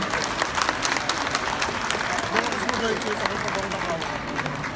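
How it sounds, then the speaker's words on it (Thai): An audience claps for company executives at a Pocari Sweat Thailand presenter launch event, a continuous, fairly loud applause with crowd murmur mixed in. "ปรบมือกับผู้บริหารของเราอีกทีค่ะ"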